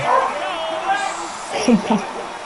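Near a talking man, a dog gives a couple of short yips and whimpers, brief and mid-loud, mixed in with the speech.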